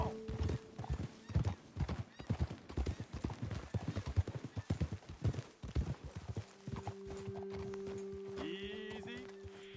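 Hooves clatter in a fast, galloping rhythm close by in Red Dead Redemption 2, and a horse whinnies near the end over a faint steady hum.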